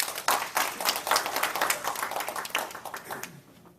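A small meeting group gives a short round of applause for Alfredo, with scattered uneven claps rising at the start and fading unevenly over a few seconds, fairly close and modest in volume.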